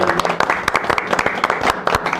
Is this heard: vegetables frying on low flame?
no